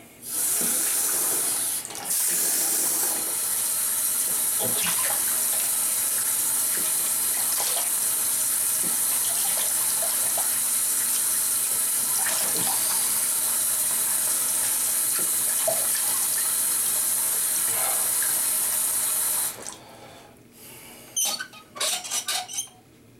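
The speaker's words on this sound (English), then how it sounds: "I'm going to rinse myself off." Water runs steadily from a bathroom tap for almost twenty seconds as someone rinses off after a shave, with small clinks and splashes, then it cuts off, leaving faint handling noises.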